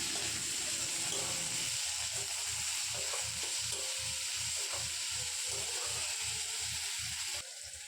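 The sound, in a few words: tomatoes and onions frying while stirred in a pan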